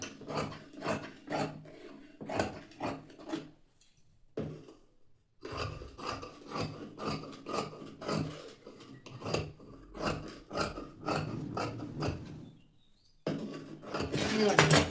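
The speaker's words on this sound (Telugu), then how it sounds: "బ్యాక్ పార్ట్లో నడుము బెల్ట్ కోసం దీన్ని కట్ చేసుకుంటాం" Scissors snip through blouse fabric to cut a strip for a waist belt, giving repeated short rasping cuts in a steady rhythm with brief pauses, close and moderately loud.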